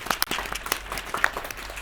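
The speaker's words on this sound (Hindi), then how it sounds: "तालियां कौन बजाएगा?" Applause from an audience after a children's Independence Day dance performance, a steady patter of many hands clapping, fairly close and continuous for a couple of seconds.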